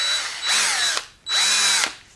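Two short bursts of a rotational-only cordless power drill spinning up, whining at steady pitch for about half a second each, separated by a brief pause, close and alone.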